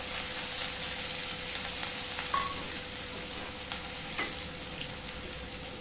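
Chopped onions, chillies and curry leaves frying for besan kadhi, a steady close sizzle with occasional soft pops and stirring scrapes, no talking.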